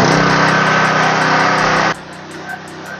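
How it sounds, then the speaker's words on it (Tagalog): A Philking PK160A portable inverter welding generator engine runs loud and steady at close range, then drops abruptly to a quieter idle with faint rhythmic ticking. "Start natin yung ating generator on,"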